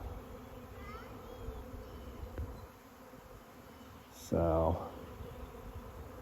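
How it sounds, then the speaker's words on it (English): A honey bee swarm hums in a steady, dense buzz outdoors, continuous throughout, and someone speaks briefly near the end. "So this swarm has now moved over here."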